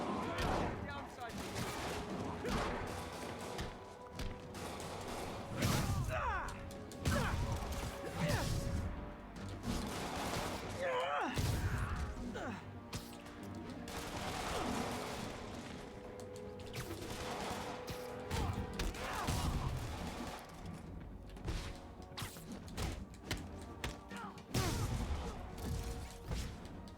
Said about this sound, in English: Freaking rocket launchers in the middle of a city